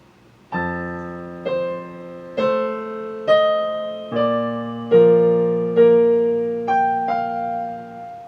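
A piano plays a slow measure of about nine notes and chords, each struck clearly and left to ring before the next.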